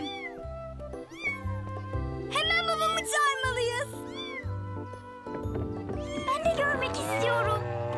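Cartoon cat meowing repeatedly in a children's animated show, bright mewing calls over continuous background music, with a voice briefly speaking.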